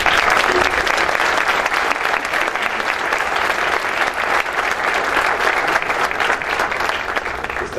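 A large crowd at an environmental cooperation awards ceremony applauds loudly and steadily, a dense wash of clapping that holds at full strength the whole time.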